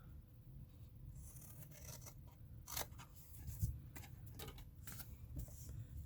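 Scissors snip pieces off a custom box, with a few close, quiet cuts and rustling paper or cardboard handling in between.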